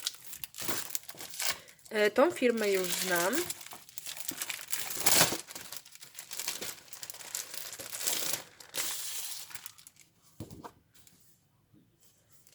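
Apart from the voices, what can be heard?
crinkling of decorative papers from Florese being unpacked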